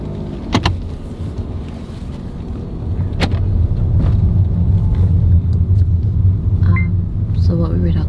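A car engine rumbles steadily while the vehicle reverses, a low continuous drone that grows louder partway through, with a few brief clicks and beeps over it and people talking nearby.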